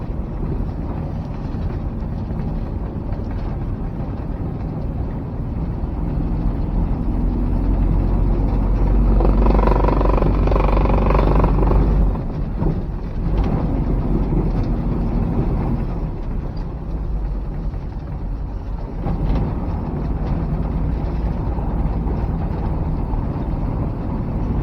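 A Renault car fitted with a 670cc Predator engine drives steadily on its first outing, a loud, continuous engine drone and rumble with wind buffeting, swelling briefly midway before settling back, no voices.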